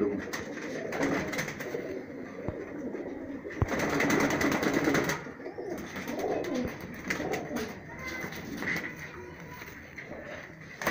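High-flyer pigeons coo steadily at close range in Rajsamand, Rajasthan, a busy, layered cooing that runs the whole time with a brief louder burst midway.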